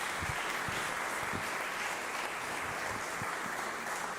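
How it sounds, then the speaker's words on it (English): Audience at an open rehearsal applauding, a dense continuous wash of clapping from many hands that stays fairly soft and even throughout. "a big round of applause."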